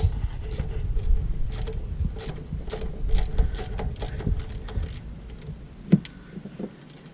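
A ratchet wrench loosens a 12mm nut holding the battery cable on the starter of a 2008 Subaru Impreza, giving close, loud bursts of rapid clicking ending in a sharp metallic clank.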